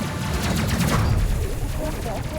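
Rapid ship weapon fire in the space game Space Crew, a dense burst of repeated shots close and loud, with a voice under it.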